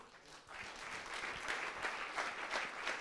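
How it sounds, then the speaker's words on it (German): Audience at a live Eintracht fan talk event applauds the four guests, a dense, even patter of many hands clapping steadily at moderate distance, with no talk over it. "großen Applaus nochmal für die vier"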